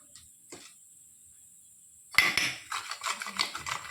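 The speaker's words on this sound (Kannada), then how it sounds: "ಎಣ್ಣೆ ಬಿಟ್ಟುಬಿಟ್ಟು ಇದನ್ನಷ್ಟು ಮಿಕ್ಸ್ ಮಾಡಬೇಕು." Peanuts tossed with turmeric and oil in a bowl: a burst of scraping and clinking starts partway through, then continues as steady, close stirring after a quiet opening.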